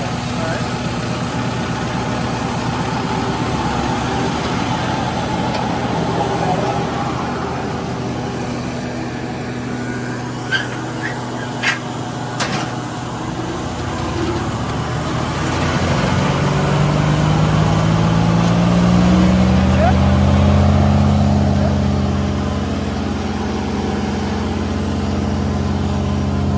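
A Carlton wood chipper's engine idles steadily with a low rumble, then its pitch rises and falls as the load changes, while someone talks over it nearby.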